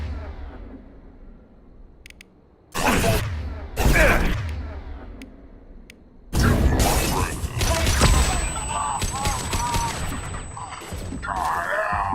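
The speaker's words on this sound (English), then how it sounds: "Watch out, flashbang!" In Mass Effect 2, a flashbang grenade goes off with sudden loud bursts, then a dense crackle of gunfire and shattering debris, close and sustained, ending with a thin high ringing tone.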